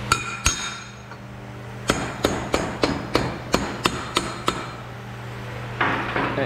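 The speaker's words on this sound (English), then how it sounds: "I get to beat it with a hammer." Hammer blows on steel sheet metal while fabricating the rear frame of a 1967 Chevelle: two early strikes, then a rapid run of about ten sharp, ringing metallic hits in an even rhythm, close and loud.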